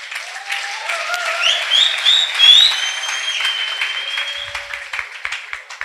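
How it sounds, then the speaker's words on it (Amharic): Sustained applause from a crowd for a woman at a church gathering, steady and fairly loud, with high whooping or ululating voices rising over the clapping. "አጨብጭቡላት።"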